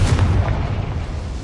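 A Confringo fire spell bursts in Hogwarts Legacy on PS5, a loud, booming explosion with a heavy low rumble that fills the whole short moment and slowly tails off.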